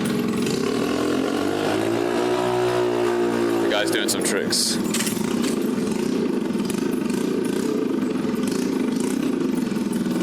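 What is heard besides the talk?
small motor scooter engine revving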